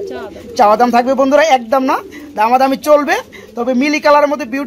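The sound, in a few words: pigeons cooing at a pigeon farm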